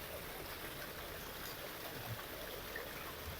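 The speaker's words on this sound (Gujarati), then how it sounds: "આપણે ડુંગળીમાં પાણી ચાલુ કરી દીધું" Irrigation water pumped by a motor flows into an onion field in a village, a faint, even, continuous hiss of running water with no voices.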